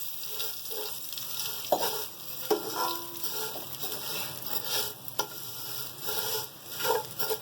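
Vermicelli roasts in a pan with cardamom for sheer khurma, giving a continuous close sizzle broken by rhythmic stirring scrapes and a few sharper spoon knocks against the pan.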